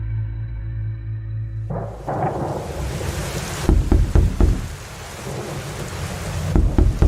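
Heavy rain pours down in a remote village during a storm, a loud, steady roar with deep thunder-like thumps and rumbles, kicking in after a brief low hum at the start.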